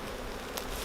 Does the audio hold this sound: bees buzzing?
yes